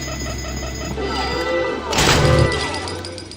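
A security camera alarm in the video game BioShock rings out as a repeating electronic tone, joined by a loud crash midway through.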